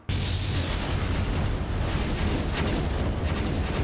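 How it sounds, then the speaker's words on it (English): A warship in the game Starbase explodes with a loud, sustained roaring blast that starts abruptly and rumbles on without letup, dense low booms and crackling debris filling the whole stretch. "Let's see if this thing explode."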